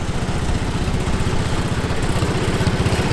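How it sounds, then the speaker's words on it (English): A Model 70 Cub Cadet garden tractor putters past in a parade of International Harvester machines, its small engine giving a steady, rapid pulsing drone at moderate loudness. "Model 70 Cub Cadet."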